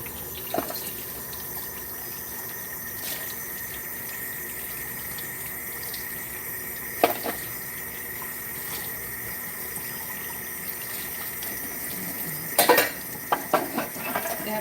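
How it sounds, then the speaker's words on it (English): A kitchen tap runs steadily while measuring cups are washed, a constant low wash of water with a few sharp clinks and knocks of the cups against the sink, loudest near the end. "I have to wash the measuring cups out."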